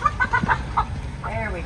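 Backyard chickens clucking nearby while being fed, a quick run of short clucks followed by a drawn-out, wavering call, with a soft voice coaxing them in the background.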